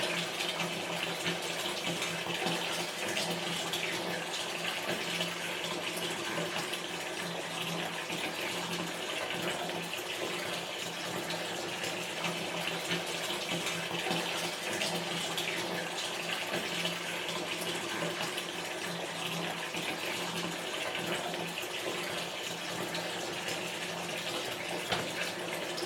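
Water runs steadily from a tap into a bathtub, a soft continuous rushing hiss that holds even for the whole stretch, with no voices.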